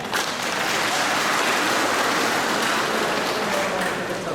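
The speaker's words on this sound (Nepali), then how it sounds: "एकपल्ट ताली हेर्नुहोस् त।" An audience claps steadily for about four seconds at a transport workers' union relief event honoring a chief minister, the applause broad and sustained with no break.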